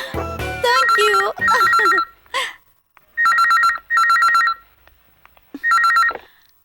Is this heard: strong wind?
no